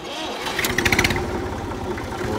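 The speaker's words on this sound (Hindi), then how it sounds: "कर देते हैं अपने ट्रैक्टर को स्टार्ट" A tractor engine cranks and fires at a farm ahead of a fuel run, a burst of rapid mechanical pulses giving way to a steady, close, rumbling idle.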